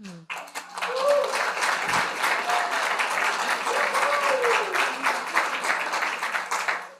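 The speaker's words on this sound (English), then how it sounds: "Not sure what you're clapping for," Audience clapping after a channeling session in Sedona, a sustained crowd applause of many hands, moderately loud and even, with a faint voice briefly audible at the start and a few tonal whistles mixed in.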